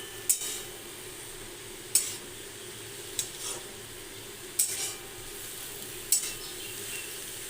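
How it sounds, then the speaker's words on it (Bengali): Kalmi greens seasoned with salt are stirred in a pan over a raised gas flame: a soft, steady sizzle broken by sharp spatula clinks and scrapes at roughly regular intervals, close by. "এবার নাড়াচাড়া করতে লাগলাম"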